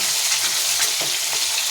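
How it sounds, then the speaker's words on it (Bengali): Fish fries slowly over low gas, browning in a pan, with a dense, even sizzle heard up close and a few soft shifts as the pieces are moved, no voices. "মাছটা ভাজা হবে আস্তে আস্তে, এখন বাদামি বাদামি কালার হবে"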